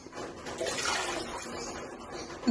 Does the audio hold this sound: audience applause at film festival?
no